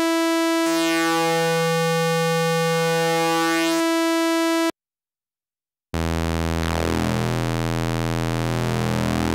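Korg monologue analog synthesizer oscillator playing a bright, buzzy sawtooth wave, a sustained note with a sweeping tone, a short silent gap, then a second, lower and richer sustained tone, loud and alone with no voice.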